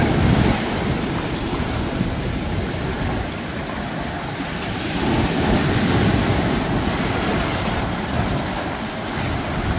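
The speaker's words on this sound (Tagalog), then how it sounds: "Grabe, kalakas ng alon." Strong sea waves crashing and surging near a small wooden outrigger boat, a loud continuous roar with wind buffeting the microphone, building in intensity midway.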